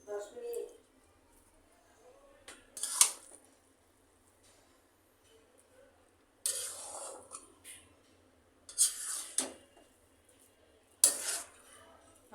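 A spoon stirring chicken biryani in a cooking pot, with a few separate bursts of scraping and clinking against the metal, close by and spaced apart with quiet gaps between them.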